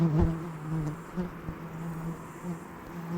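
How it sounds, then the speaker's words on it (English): A low buzz of March flies drones steadily, with a few louder passes close by, as if flies are circling near the listener. "we're surrounded by... March flies"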